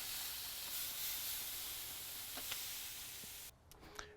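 Unsalted beef broth sprayed over Texas-style BBQ beef ribs on a Gator Pit smoker running at 250 degrees, a steady close hiss for about three and a half seconds that cuts off abruptly, leaving a few faint clicks.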